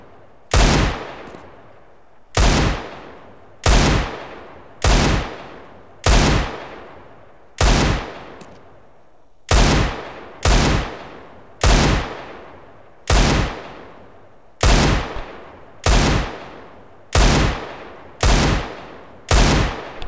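Pistol fire in CS:GO on an aim training map: about fifteen loud, close single shots at a slow, fairly even pace, each with a short decaying tail.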